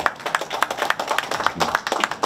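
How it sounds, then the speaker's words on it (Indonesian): An audience at a culinary festival event at a mosque claps in a quick, irregular patter of overlapping hand claps, moderately close and sustained for a couple of seconds, with no speech over it. "Tepuk tangan dong"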